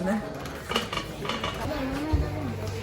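Plates and dishes clink and rattle while being handled during a shopping trip in a household goods store, several close, sharp knocks and chinks scattered over faint background voices and store noise.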